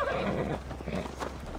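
A horse whinnies loudly in Assassin's Creed Valhalla, one drawn-out neigh close by, with light hoof clatter alongside it.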